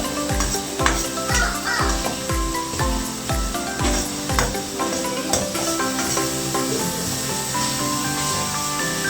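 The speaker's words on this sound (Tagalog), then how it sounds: "Hintayin po natin madurog tong kamatis." Tomatoes being crushed with a utensil in a frying pan, steady sizzle under a run of rhythmic knocking and scraping strokes that fade into continued frying.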